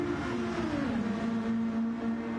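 A Nissan race car on soft tyres in a racing game drones with a steady engine tone that dips slightly mid-way, loud and continuous with no talk.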